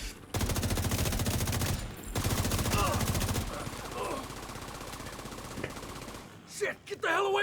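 Rapid automatic gunfire from a video game firefight in the Dark Zone, with loud sustained bursts through the first few seconds, then lighter shots and game noise, ending in a brief whooshing sweep.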